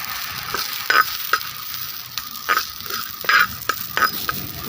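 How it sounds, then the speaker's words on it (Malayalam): Urad dal and drumstick leaves sautéing in a hot pan, with a steady sizzle and several sharp scrapes and clinks of a spoon stirring at intervals, close and clear with no talking. "നല്ല ഉഴുന്ന് ഇട്ട് കൊടുത്തിട്ടുണ്ട് അതിനകത്തേക്ക് നമുക്ക് മുരിങ്ങയില ഇട്ടിട്ട് ഒന്ന് വയറ്റിയെടുക്കണം"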